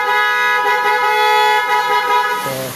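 A loud, sustained blare from a PIAA snail-type horn fitted to a Suzuki Stingray Wagon, close by and holding steady for over two seconds before the pitch drops abruptly at the end.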